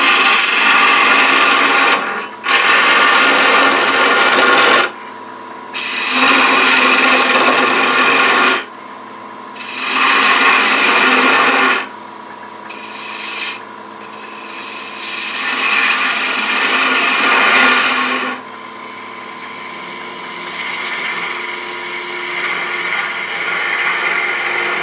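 A wood lathe cuts wood with a beading and parting tool, giving repeated rasping, scraping bursts of a few seconds each with short pauses between them, loud and close.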